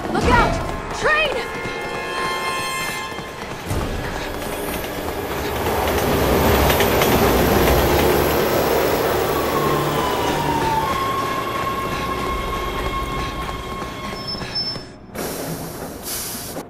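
In Resident Evil 6, a train thunders past close by with a loud, sustained rumble and rattling clatter that swells and then cuts off abruptly, with a voice briefly audible beneath it.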